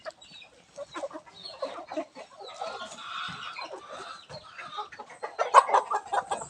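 A rooster clucks repeatedly in short, choppy bursts, fairly close, with soft farmyard background noise.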